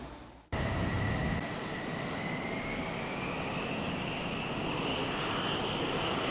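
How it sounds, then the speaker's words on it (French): A loud, steady roar of F-16 and F-15 fighter jet engines with a rising high whistle as they start moving on the parking area, starting abruptly and holding at full strength throughout. "baigné par le sifflement des F-16 et F-15 qui s'ébranlent"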